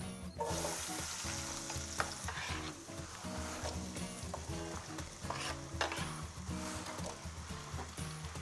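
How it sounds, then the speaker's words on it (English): Potatoes sizzle and fry steadily in a hot pan alongside celery and olives, a dense continuous crackle with some stirring clatter throughout, close and fairly loud with no talking. "This is hot. Let me start throwing the potatoes in."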